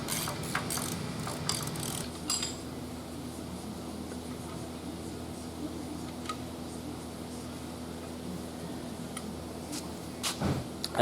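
A ratchet clicking in quick runs as it loosens oil pan bolts on an old big block Mopar engine during teardown, close, with a steady hum of background noise throughout.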